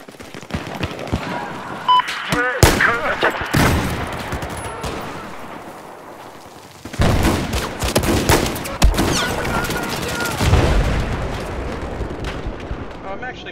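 Rifle gunfire in the video game Battlefield 4 during a multiplayer Domination round on Dragon Pass, with loud bursts and overlapping shots around a quieter middle stretch before heavy firing returns, under occasional talk.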